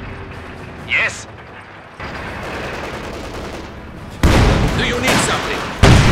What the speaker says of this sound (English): Down! Taking fire!